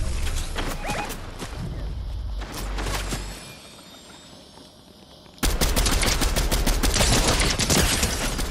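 Gunfire in the Fortnite video game, rapid loud cracks and bursts close by, a short lull of quieter shots, then a sudden dense barrage of sustained fire to the end.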